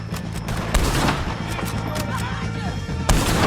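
Gunfire against O'Driscoll gang members in Red Dead Redemption 2, a steady barrage of loud shots and booms running throughout, with a couple of heavier blasts.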